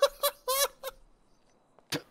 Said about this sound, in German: Er quietscht ja wirklich wie eine Ente.